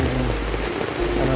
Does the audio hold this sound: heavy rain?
yes